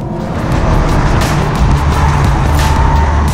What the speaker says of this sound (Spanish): ¿Cómo va el Cupra? Aquí entra en un viraje largo, como gira plano.